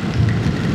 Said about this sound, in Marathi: पाऊस बघा ना यार कसला लागतो जोर जोरात